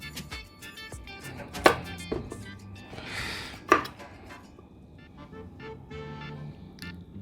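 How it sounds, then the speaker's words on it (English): A knife cuts celery stalks into julienne strips on a board, giving a few sharp, irregular chops with sizable gaps between them, close and fairly loud over a quiet kitchen background with faint clatter. "Cut the celery stalks into equal sizes and we'll julienne them or cut them into strips."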